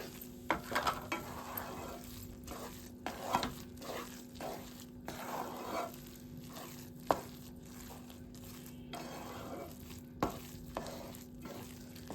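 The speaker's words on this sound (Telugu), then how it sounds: "హాఫ్ స్పూన్ యాలకుల పొడి వేసుకోవాలి వేసుకొని కలుపుకుందాము" Melted jaggery with half a spoon of cardamom powder being stirred in a pan for a semiya sweet, a spoon scraping and clinking in repeated irregular strokes close by, with no speech.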